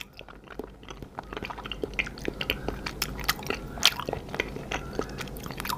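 Close, moist bites and chewing of a soft, bouncy cocoa pudding during a mukbang-style meal, with irregular squishy crunches and mouth sounds repeating steadily throughout.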